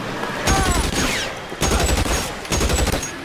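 Gunshots in the L.A. Noire video game ring out in three loud bursts of rapid fire separated by short pauses, each followed by a ringing tail.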